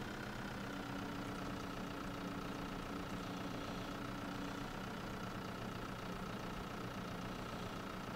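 In Farming Simulator 2013, a Steyr 4095 Kompakt tractor engine runs at a steady idle, a constant low mechanical drone with a faint hum and no change in pace, alone and fairly quiet.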